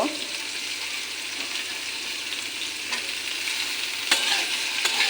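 Potato, capsicum and cauliflower fry together in a pan for a spicy semolina snack, a steady close sizzle broken by a few sharp stirring scrapes and crackles near the end.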